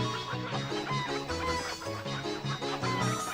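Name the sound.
chickens clucking in video game Breath of Fire IV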